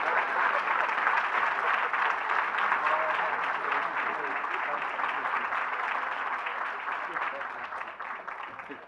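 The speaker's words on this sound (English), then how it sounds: "So let's welcome to the stage with applause the Reverend Dr. J. Anthony Lloyd." Sustained audience applause at a Martin Luther King Jr. memorial breakfast welcomes a reverend to the stage, a dense, steady clapping that fills the room for the whole stretch and slowly tapers at the end.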